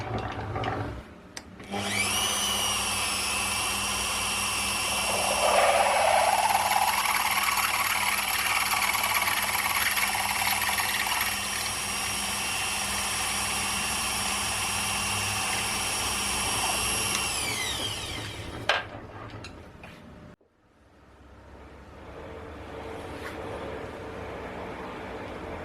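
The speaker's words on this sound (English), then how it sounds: "we'll drill these two holes in the air and get them out of the way" A power drill whines steadily at high speed drilling holes in metal engine parts for most of the clip, then spins down and stops, leaving a quieter hum.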